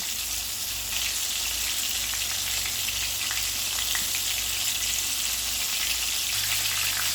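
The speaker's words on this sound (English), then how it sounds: "we're going to finish cooking these, and then I'm going to add in my other pork chop to cook" Pork chops fry in a pan with a dense, continuous sizzle and faint spattering pops, steady and close throughout, with a low hum underneath.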